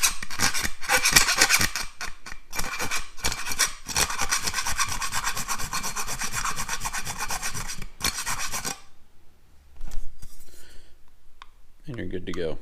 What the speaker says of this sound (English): Just grab a file, a couple passes.